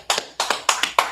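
A small group claps their hands in a few sharp, nearly even pairs of slaps, close and loud, and no one speaks.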